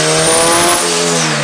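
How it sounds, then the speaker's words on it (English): A turbocharged car on a dyno with cheap eBay turbo parts roars at full throttle, and the engine note drops suddenly partway through as the wastegate opens under fast-rising boost. "You hear that gate open"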